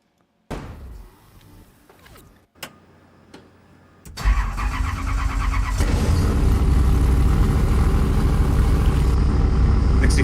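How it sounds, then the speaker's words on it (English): A 1965 Ford Mustang: faint clunks and knocks come first, then the engine cranks and catches with a loud burst. It settles into a heavy, rumbling idle that stays loud and close. "'65 Ford Mustang."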